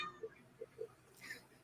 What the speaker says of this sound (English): Did you hear that? Yes. I just heard a cat.